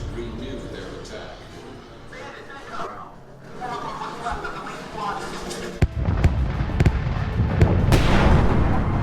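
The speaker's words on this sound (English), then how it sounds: "anti-aircraft guns unleash a barrage of flak" An anti-aircraft flak barrage from a WWII museum film plays as a loud, dense rumble of overlapping gunfire and bursts that builds and thickens toward the end, with crowd chatter and laughter mixed in.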